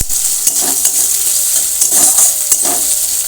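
Onions frying in hot oil for biryani beresta, a steady close sizzle with faint stirring scrapes and small crackles throughout, no voices.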